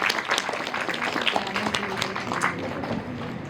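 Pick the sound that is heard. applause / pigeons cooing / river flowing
applause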